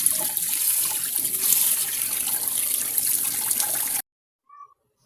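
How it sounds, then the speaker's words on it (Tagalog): Foraged succulent greens rinsed under running tap water, a loud, steady rushing stream close by for about four seconds that then stops abruptly, followed by a short faint knock. "Huhugasan ko na tong konting nakuha ko"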